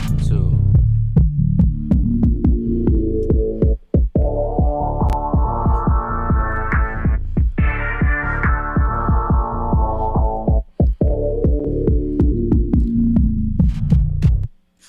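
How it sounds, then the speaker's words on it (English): A hip-hop beat plays on its own after a beat switch, with steady heavy kicks and a deep throbbing bass under a slowly rising and falling synth sweep, loud and continuous, briefly dropping out twice. "let me play the beat by itself"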